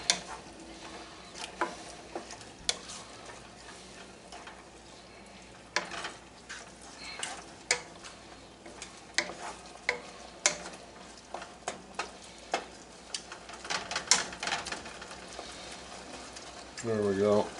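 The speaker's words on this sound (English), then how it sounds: "bring it up to a boil and then simmer it for about 5 to 7 minutes" Taco salad meat mixture bubbles gently in a pot on the stove, with soft popping and occasional spoon clicks and scrapes scattered over a steady low hiss.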